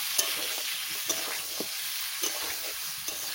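Duck meat sizzles in a hot pan, a steady frying hiss with a few sharp spatula scrapes and stirs scattered through, close and clear with no talking.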